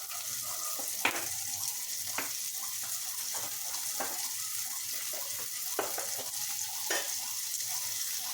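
Tomatoes frying with browned onions in a pan, a steady close sizzle with a few sharp stirring clinks and scrapes spaced through it, no voices.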